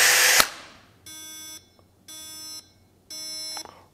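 A Metabo cordless drill whirs briefly and then sounds its warning signal, three evenly spaced electronic beep tones with a robotic, buzzy character, close and clear with no talking.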